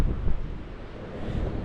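Strong wind blows steadily across the microphone beside a coastal sea cave while fishing, a continuous rough rumble with gusty swells and no voices.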